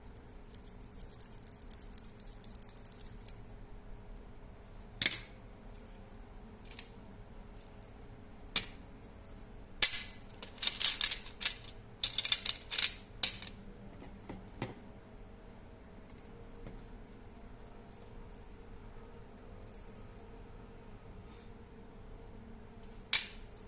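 Loose metal screws, machine screws, hex bolts, nuts, anchor bolts and springs sorted by hand, giving sharp metallic clinks and brief rattles, a busy cluster at the start then scattered single taps and jangles over a quiet, steady background with no talking.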